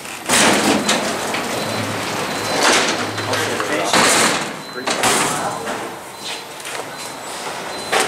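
Freight elevator doors on an original Otis Lexan traction freight elevator in Chicago's Water Tower Place, opening with a loud, sustained rumbling slide and clatter lasting several seconds; a voice speaks during the motion.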